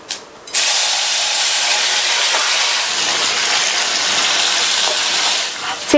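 Boiled bottle gourd and moong dal hit hot tempering of chilli and asafoetida in a pan, setting off a loud, steady hissing sizzle that runs close and unbroken for several seconds after a brief quiet start.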